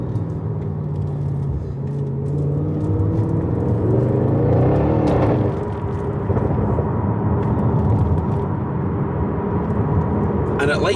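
Audi RS6 Performance engine and exhaust under hard acceleration, a loud continuous rumbling roar heard from inside the car that rises through the gears with a shift around the midpoint.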